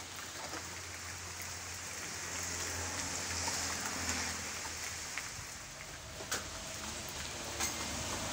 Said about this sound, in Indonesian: Hujan, Pak.